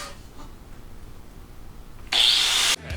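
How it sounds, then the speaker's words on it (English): A zip cut-off wheel slices sheet metal on a Ford F100 firewall, a harsh, loud grinding screech lasting about half a second that stands out sharply against low shop background noise. "I'm going to do a little zip and cut now."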